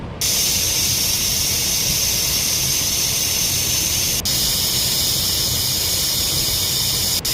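Pressure cooker on the stove whistling as steam vents while rice with masoor dal and coriander cooks; one loud, continuous high hiss holds steady for several seconds with a brief break partway through.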